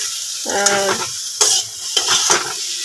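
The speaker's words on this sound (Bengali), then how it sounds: "এই যে লাল শাক ভাজা করলাম, হয়েই এসছে" A steady frying sizzle of red amaranth greens with nigella seeds, green chilli, garlic and dried chilli, with intermittent scraping and stirring clatter of a utensil against a pan, fairly close.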